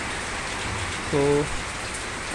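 Rain falls near a cow shed, a steady dense patter that runs throughout at moderate loudness, with one brief spoken word partway through.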